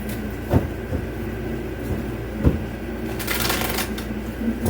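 Cards being shuffled in quick riffling bursts, a few sharp snaps standing out against a steady low background hum, no voices.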